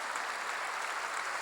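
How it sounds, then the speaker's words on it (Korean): A steady wash of congregational applause in a church, many hands clapping at once with even loudness throughout the short burst. "박수로 한번 주시죠"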